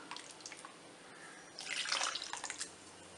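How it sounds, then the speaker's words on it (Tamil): Water is poured into tomato rasam with tamarind, giving a steady splashing trickle that swells briefly in the middle before easing off, with no talk. "தேவையான அளவு தண்ணி விட்டுக்கலாம்."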